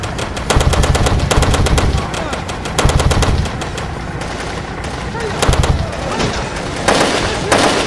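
Video game gunfire from The Mark, a PC shooter: bursts of rapid automatic fire with sharp single shots, loud and close, repeating in clusters over eight seconds with a voice faintly underneath.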